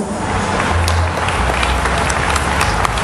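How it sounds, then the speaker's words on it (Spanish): A crowd at a town pageant crowning its princess applauds loudly and steadily, a dense wash of clapping with a low rumble of crowd noise beneath. "¡Fuerte el aplauso!"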